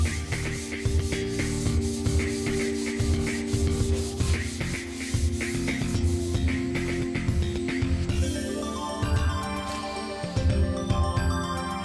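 Dried drywall putty being sanded on a wall, rhythmic scraping strokes repeating steadily and close, with a faint metallic tinkle near the end.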